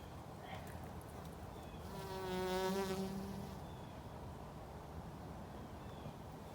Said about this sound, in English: Hello, bee.